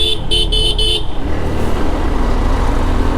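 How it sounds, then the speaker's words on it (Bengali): A road traffic jam behind two slow trucks, with a loud horn blaring in several quick toots at the start over a heavy, continuous rumble of engines close by. "দেখেন দুইটা ট্রাক বয়স্ক মানুষের মতো ধীরে ধীরে আগাচ্ছে এদের পিছনে টানা ট্রাফিক জ্যাম লেগে আছে"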